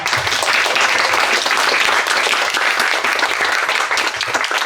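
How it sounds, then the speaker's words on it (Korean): Audience at a Korean film screening and Q&A applauding the guests, loud, dense and steady clapping filling the room for several seconds. "두 분에게 다시 한번 큰 박수 부탁드립니다"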